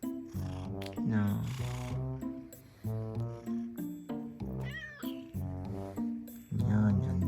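A Maine Coon cat meows repeatedly in the early morning, a close, loud run of drawn-out, wavering calls with short pauses between them.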